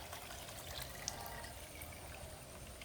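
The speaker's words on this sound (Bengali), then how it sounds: "জলটা আমি এর মধ্যে দিয়ে দিচ্ছি।" A litre of water is poured onto cooked rice, a steady close hissing flow that runs unbroken throughout with no speech.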